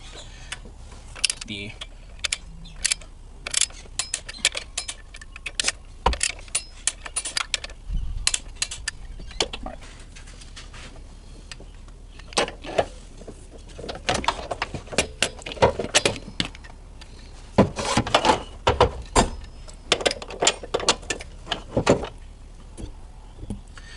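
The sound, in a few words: torque wrench tightening motor mount bolts on Dodge Dart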